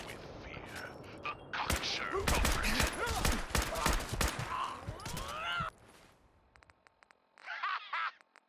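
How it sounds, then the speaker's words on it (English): Rapid video game gunfire from several weapons at once, a dense volley of sharp cracks and bursts with voices mixed in, then sparse clicks and a final short burst. "Everyone's shooting at me."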